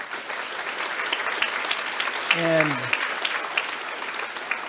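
Applause from a conference audience at a college admissions event, moderately loud and sustained, with a brief spoken word and a short tonal sound partway through.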